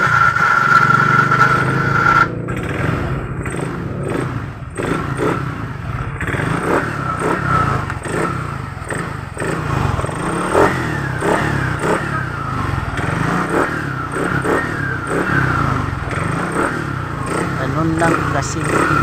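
A Yamaha NMAX V1 scooter with a fault that lets it start even when switched off, cranking and then running with repeated revs, loud and close, with a voice talking over the engine.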